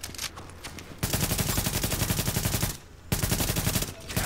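Automatic gunfire in the video game The Division sounds as two long, loud rapid bursts of evenly spaced shots, split by a brief pause, with a quieter stretch before the first burst.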